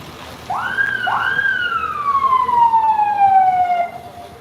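A single ambulance siren wails with a long rising-then-falling sweep, loud and fairly close, over a low background rumble of traffic.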